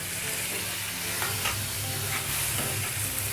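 Goat brain (magaz) frying and being stirred in masala with softened tomatoes in a pan, giving a steady close sizzle with occasional scraping stir strokes throughout, with no talking.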